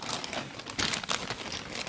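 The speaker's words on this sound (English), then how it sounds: "It comes in this plastic bag along with the outer packaging when it gets shipped to you." Plastic shipping bag around a TMC MK3 Microfight rig crinkles and rustles in short bursts close to the microphone, handled continuously for a couple of seconds.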